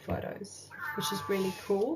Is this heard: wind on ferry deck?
no